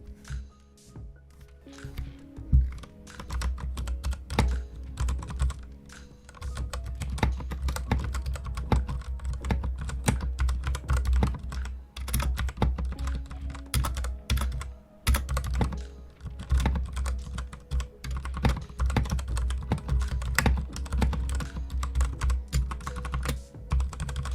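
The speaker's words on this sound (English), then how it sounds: "Now we're gonna have the sound test of the keyboard." Steady, rapid clacking of a Magegee Star 61 mechanical keyboard with brown switches, keys typed continuously and up close with a soft, thocky tone and no voices.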